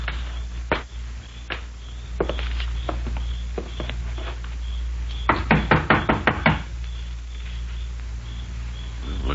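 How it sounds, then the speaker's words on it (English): Knocks on the door of a run-down, seemingly deserted house: a few spaced single raps, then a quick cluster of louder knocks, close and distinct over a low steady hum. "Well, let's try knocking."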